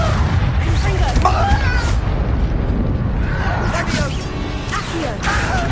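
Fire-blast spell explosions in the Hogwarts Legacy video game, booming and crackling continuously under heavy combat noise, with several loud bursts and whooshing swells layered over each other.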